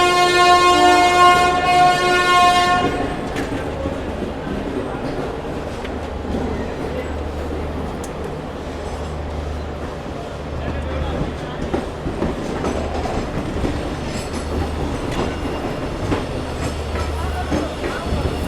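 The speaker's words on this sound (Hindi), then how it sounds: "हमारी युवा एक्सप्रेस की जर्नी जो है शुरुआत हो चुकी है" The Yuva Express pulls out of Bandra Terminus, opening with a loud, sustained horn blast, then a continuous rolling rumble with rhythmic wheel clatter building as the train gathers pace, with faint voices in the background.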